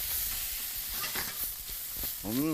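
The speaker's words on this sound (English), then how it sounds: "And then put the pork in, which is already partially cooked and smoked." Partially cooked smoked pork frying in a wok, a soft sizzle with scraping stirs of a utensil at close range and a short tonal squeak near the end, no talking.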